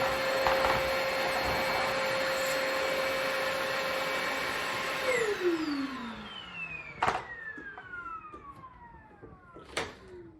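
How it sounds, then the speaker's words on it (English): A Perfect C105B commercial battery canister vacuum runs close by with a steady whine and a high-pitched ringing tone, then winds down with falling pitch, followed by a couple of sharp clacks. "I don't really like the way this vacuum sounds. It has a very high-pitched ringing noise to it"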